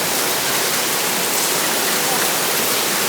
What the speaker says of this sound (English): Wow, I got a waterfall.